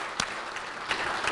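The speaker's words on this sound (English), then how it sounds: "let me just give you a round of applause" Brief applause from an audience at a Hometown Heroes event honoring a Lifetime Achievement Award winner, a soft, steady patter of clapping at a moderate distance with a few sharper bursts.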